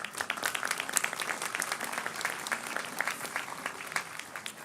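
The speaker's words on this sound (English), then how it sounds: "We'd like to give you one last round of applause before you go back in the building." Convocation audience applauding at a summer graduation ceremony on the Kelowna campus, a dense, steady patter of many hands clapping throughout, moderately loud and even with no talk over it.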